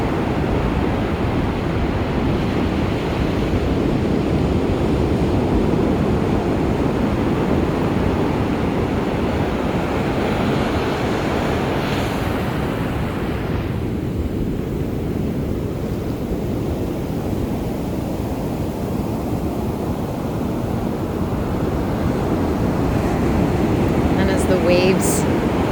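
Ocean waves and surf roll steadily along an Australian coast, a continuous broad wash of breaking water that stays loud and even throughout, with a faint voice over it.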